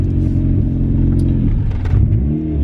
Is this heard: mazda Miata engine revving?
yes